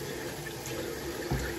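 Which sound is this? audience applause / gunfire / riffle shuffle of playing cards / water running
water running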